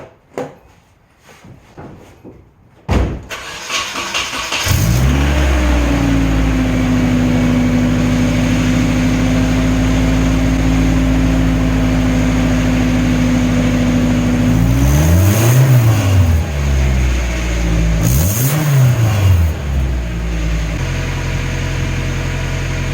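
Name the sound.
Nissan 240sx engine test fire with new intake and turbo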